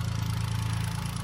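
A custom off-road Suzuki DA17 with a VVT engine runs at a steady idle, close and loud, with a low rhythmic throb and no talk over it.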